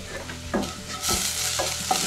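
Ginger, ajwain, black pepper, cumin powder and a little turmeric stir-fried in a pan for aloo paratha filling, with a steady sizzle and a few scraping strokes of the spoon, close and alone.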